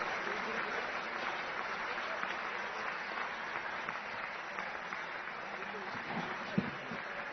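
A crowd at an event gives a standing ovation to the chief minister, sustained, even clapping from many people heard somewhat distantly, with a few voices mixed in.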